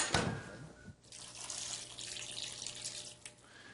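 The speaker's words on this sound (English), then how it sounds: "I'm going to pour about half a bottle in, and some broth, some chicken broth." Half a bottle of Chardonnay white wine and some chicken broth pour into a pan in a steady, continuous splashing stream after a short opening clatter, close and moderately loud.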